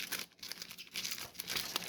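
Magic: The Gathering foil cards being riffled and shuffled, close and fairly loud, with a steady run of crisp crinkling, flapping bursts and no voices.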